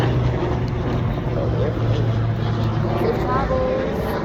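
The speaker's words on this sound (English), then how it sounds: "Well, that's actually a helicopter." A helicopter flying nearby makes a low, steady droning rumble that runs continuously beneath a person talking outdoors.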